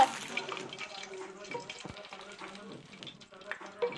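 Hot browned butter is poured over köfte Rumeli kebab, giving a soft sizzle and crackle with light clatter, fairly quiet and close.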